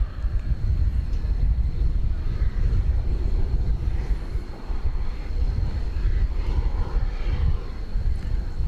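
A jet aircraft engine rumbles at DFW Airport at night, a continuous low, roaring drone with a faint steady whine above it, heard from a distance with some wind buffeting and no talking.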